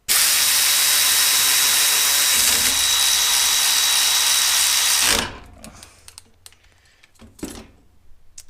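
A Milwaukee power ratchet runs forward, a loud, close, continuous whirring drone for about five seconds that cuts off abruptly, followed by a few faint clicks and handling knocks.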